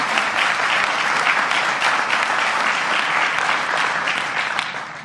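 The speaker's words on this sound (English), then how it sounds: "I hope the clapping doesn't take away from our question time" Sustained applause from an audience at a political event, dense steady clapping at full strength that tapers slightly at the end, with no voices over it.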